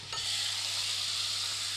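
Water poured into a hot pan of nettles hisses and sizzles steadily as it deglazes, a loud, continuous, close frying sound with no talking.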